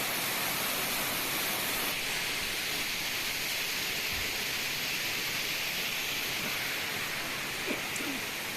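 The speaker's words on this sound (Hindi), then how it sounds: "ऊपर पहाड़ों के अंदर से जल आ रहा है और सीधा नीचे" Cold mountain water pours steadily down from the hills near a hot spring on the Gangotri route at Gangnani, a continuous broadband rushing roar that stays loud and even throughout, close by with no voices.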